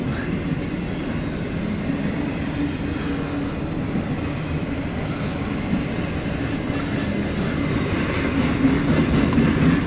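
A loaded CSX autorack freight train rolls past steadily and close, its railcars rumbling with a continuous clickety-clack of wheels over rail joints, swelling slightly toward the end.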